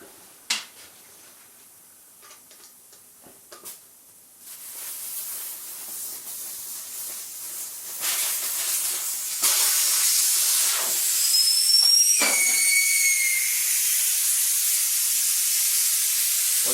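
Air escapes from a car tyre on a 1990 Renault Super 5 as the valve core is unscrewed: a few small clicks, then a close, steady hiss that grows louder and keeps rushing to the end.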